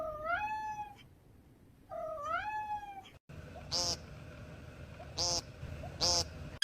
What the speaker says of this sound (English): From meows that sound like they're straight out of a cartoon